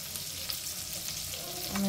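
Bitter gourd frying in a pan over low heat gives a steady, quiet sizzle with faint stirring scrapes, building slightly louder at the end.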